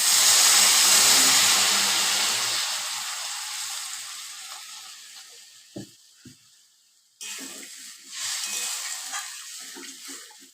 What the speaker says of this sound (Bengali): এতে আমি এবার পরিমাণ মতো জল দিয়ে দেব